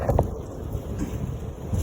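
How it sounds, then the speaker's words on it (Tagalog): Strong wind buffets the microphone in a brief outdoor gust, a loud, steady rumbling roar with short louder thumps and no voices. "Ang lakas ng hangin."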